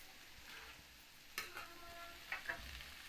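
Small bitter gourds frying in a pan give a soft, steady sizzle, broken by a few sharp stirring scrapes and clinks near the middle and end.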